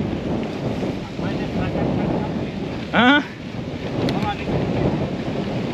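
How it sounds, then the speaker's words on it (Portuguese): Strong wind blowing on an outdoor trail during a hard training ride roars steadily across the microphone, loud and close throughout, with a brief spoken interjection partway in. "seja na BR, seja no mato, o vento tá forte"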